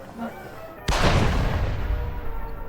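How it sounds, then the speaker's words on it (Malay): A single sharp, loud blast of firecrackers goes off suddenly and leaves a rumbling, crackling tail. "Cuba kalau nak main mercun tu jauh-jauh sikit."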